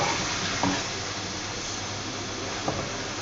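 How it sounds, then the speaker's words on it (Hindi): Chicken pieces frying in a pan for white sauce pasta, a steady broadband sizzle and hiss throughout with a couple of faint clinks of a spoon stirring. "ये हमारी चिकन अच्छे से फ्राई हो रही है।"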